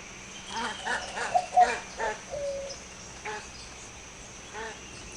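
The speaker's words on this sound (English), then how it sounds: "So that sounds like an ibis to me." Faint, scattered calls of an ibis sound in a short series of hoarse, croaking notes over a low background hum, with a final call after a pause.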